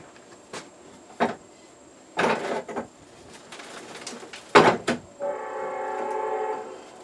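A train horn sounds far off in one sustained chord near the end, after scattered brief knocks and bird calls, heard from a homestead cottage garden.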